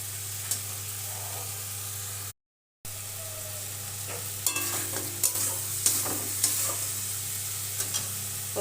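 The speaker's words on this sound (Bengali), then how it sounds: "এবার ভেজে রাখা আলু ও ফুলকপি দিয়ে দেবো।" Fried potato and cauliflower pieces are stirred into a sizzling spice paste with oil, a steady low sizzle topped by spoon scrapes and clacks that grow busier after a brief cut to silence, over a constant low hum.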